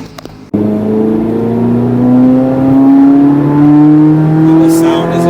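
Corvette C8 Z06 engine heard from inside the car, starting abruptly and then revving loud and close, its pitch climbing steadily through a long pull under the cabin drone.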